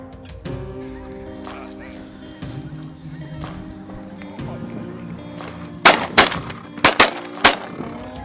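Shotgun shots while dry-field hunting snow geese, specklebellies, Canada geese and mallards in Canada, a quick burst of four or five sharp reports late in the clip after a stretch of low outdoor background.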